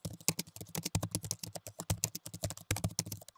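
Rapid, steady typing on a computer keyboard as a database command is entered, crisp close key clicks in a dense continuous rhythm with no voices.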